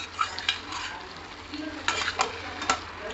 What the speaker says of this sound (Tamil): ஸோ இந்த பொடி போட்டிருக்கோம், எல்லா இடத்துலையும் படுற மாதிரி நம்ம வந்து நல்லா மிக்ஸ் பண்ணி விட்டுக்கலாம்.